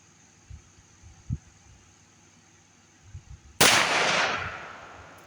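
A single loud, close gunshot from a 70-year-old CZ52 pistol at an outdoor shooting range, with a sharp broadband crack followed by a long, slowly fading echo, preceded by faint handling noises.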